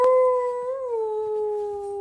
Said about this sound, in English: I was trying to teach my stepsister's dog how to howl.